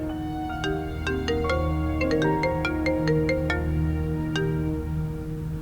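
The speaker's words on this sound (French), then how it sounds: "Si jamais c'est Purab, je vais le gronder au téléphone." A mobile phone ringtone plays a bright chiming melody of tones over a steady background hum, close and clear with no talking.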